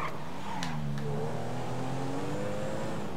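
Bentley Continental GT in GTA V revs up and accelerates, a steady engine tone climbing in pitch over a few seconds, loud and close with no talking.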